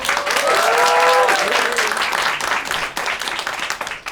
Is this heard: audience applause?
yes